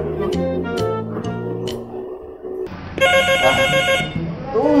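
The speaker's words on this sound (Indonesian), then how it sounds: "Tumben nih telepon bunyi." A bright, high-pitched telephone ring bursts in loudly and repeats, following a stretch of lower tones and a brief lull.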